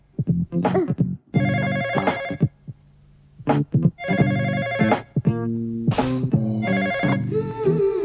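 A loud electronic ringtone plays in repeating bursts with short pauses between them, clear and close.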